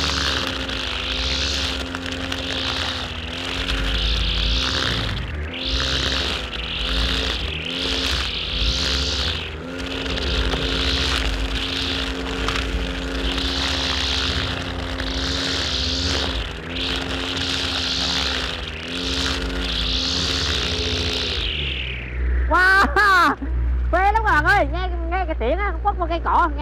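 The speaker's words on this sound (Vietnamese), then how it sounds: "mình sẽ sử dụng cái máy cắt cỏ này" A grass trimmer whines steadily at close range with shifting engine pitch as it cuts, then revs and sputters near the end.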